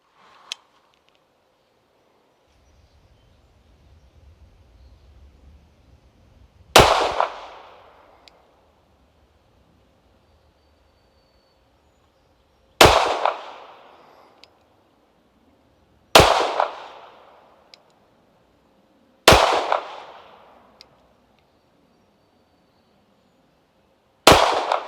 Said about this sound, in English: with a two-hand combat hold, and I was firing from a distance of 7 yards